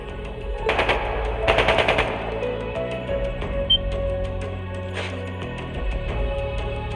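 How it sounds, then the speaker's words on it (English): Two quick bursts of rapid automatic gunfire ring out over a steady electronic game soundtrack with low droning tones, in the video game Trails of Cold Steel II. "That sounded like gunfire."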